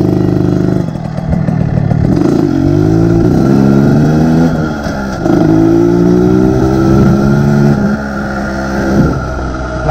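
A Derbi moped fitted with a Metrakit exhaust revs hard at high rpm, loud and close, its engine note climbing and falling in a few sustained pulls with brief dips between.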